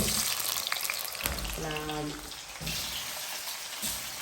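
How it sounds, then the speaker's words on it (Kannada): Large-cut potatoes frying in mustard oil, a steady sizzle and crackle with a brief tonal clatter partway through and a soft voice in the background. "ಎಣ್ಣೆಯಲ್ಲಿ ಫಸ್ಟಿಗೆ ಆಲೂಗೆಡ್ಡೆಯನ್ನು ಫ್ರೈ ಮಾಡಲಿಕ್ಕೆ ಉಂಟು"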